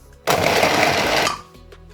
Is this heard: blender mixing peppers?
yes